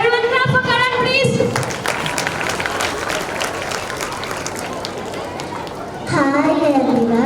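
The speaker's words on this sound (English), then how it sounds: "And everyone clap for Karan please." Audience clapping for a child at a school annual day, a dense sustained applause filling the middle of the clip, with children's voices and an adult speaking over amplified sound before and after.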